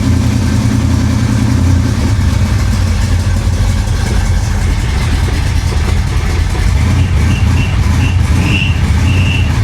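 A flood-damaged 1966 Chevrolet Impala engine idling close up with a steady low rumble, and a thin high-pitched belt squeal rising in short bursts near the end.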